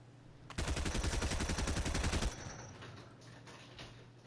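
Rapid automatic gunfire in the Bravo Team video game, aimed at a supply drop chest: a steady burst of evenly spaced shots for about two seconds that stops abruptly, followed by a faint echoing tail.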